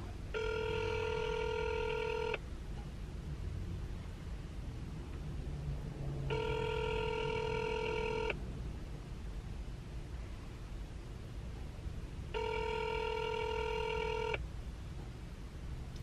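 Telephone ringing for an outgoing call, three evenly spaced two-second electronic ring tones separated by long gaps over a steady background hiss.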